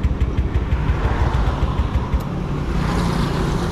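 Out of petrol, a TVS Ronin motorcycle's electric starter grinds repeatedly in low, pulsing bursts without firing up. The cranking is heard close and loud, then gives way to a steady background hum.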